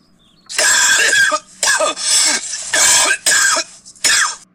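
A run of harsh, raspy coughs, five or six bursts in quick succession, loud and close, with no talking.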